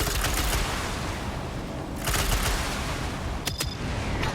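Rocket pods on the Hailfire tank, a Star Wars ground vehicle built in the Trailmakers video game, fire in a dense continuous barrage, loud and close, with a few sharper bursts over the roar.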